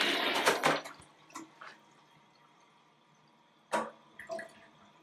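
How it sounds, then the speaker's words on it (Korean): A partly clogged toilet flushed in a bathroom: a burst of rushing water at the start, then sparse drips and trickles, with a second short gush and gurgle near the end as the bowl drains sluggishly. "변기물이 내려가긴 하는데 시원치 않다고 해서 변기물을 직접 내려보고 확인을 해보겠습니다"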